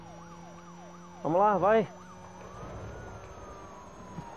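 Police car sirens from the Need for Speed: Most Wanted video game wail in a steady up-and-down sweep under engine noise, while someone shouts briefly over them partway through.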